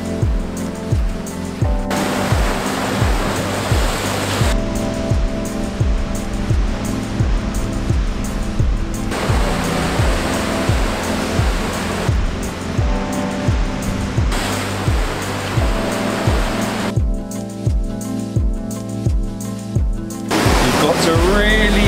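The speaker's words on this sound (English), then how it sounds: "The waves here are crazy." Big waves crash repeatedly against rocks on a stormy Albanian coast, a loud continuous roaring surf with rhythmic surges, heard under talk.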